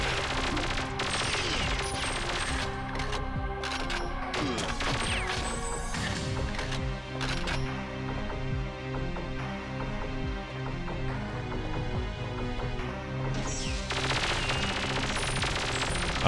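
Rapid gunfire from the Perfect Dark shooter game, bursts of automatic shots and impacts crashing over a dense, continuous game soundtrack, loud and steady throughout with no talking.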